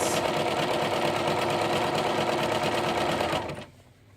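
A Bernina Aurora 430 sewing machine stitches at a steady, fast, even whir for about three and a half seconds, close up, then stops abruptly.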